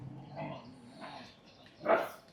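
Dogs, including a grey one, bark and yip outdoors near a motorcycle being serviced, a Royal Enfield Interceptor 650, giving a few short moderately loud calls with one stronger bark near the end.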